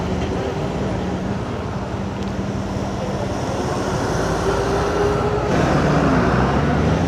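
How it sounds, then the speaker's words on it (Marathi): An army truck convoy rolls along a mountain road from Udhampur toward Srinagar, with a continuous heavy engine drone and road roar from passing vehicles that swells louder near the end. "इथे पाहू शकता आर्मीच्या जवानांचा संपूर्ण ताफा चाललेला आहे"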